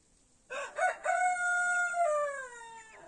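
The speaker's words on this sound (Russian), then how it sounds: "и наслаждаться криком петухов" A rooster crows once in a village, a clear drawn-out call with a short stuttering start and a long falling tail, close and alone against quiet surroundings.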